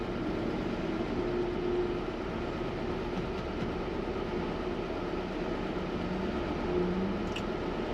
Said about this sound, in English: Car idles nice and smooth.